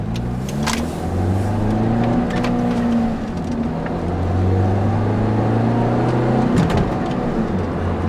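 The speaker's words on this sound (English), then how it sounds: "The exhaust note is great on this." A 2005 Saturn Vue with what seems an aftermarket exhaust drives along, its engine and exhaust note humming steadily and rising and falling slightly with throttle, heard close and loud with no voices.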